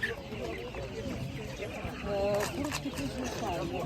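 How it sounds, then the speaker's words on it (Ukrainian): Laying hens cluck at an animal market in Kolomyia, soft clucks and calls in the background beneath nearby people talking. "Кура, курки несучки такі."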